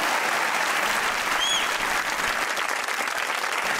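Studio audience on a Geo News comedy talk show applauding steadily, a dense even wash of clapping that holds at constant loudness throughout, with no talking over it.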